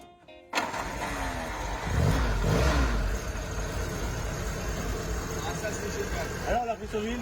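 A Jeep engine is turned over after an oil change, with a starter crank leading into a rough catch and a running engine, alongside someone speaking over the mechanical noise.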